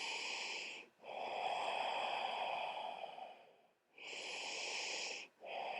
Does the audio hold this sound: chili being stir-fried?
no